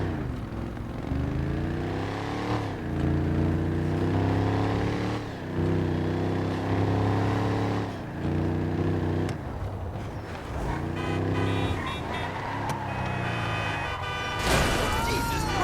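A Vapid car engine in GTA Online revs and accelerates in repeated surges, each climbing pitch then dropping at gear changes, a steady mid-loud drone with occasional horn-like toots and quick pitch sweeps near the end.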